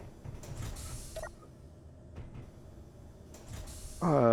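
Spaceship doors moving in Space Engineers, soft mechanical creaks and clunks over a quiet hum, ending in a louder buzzing mechanism sound as a door engages.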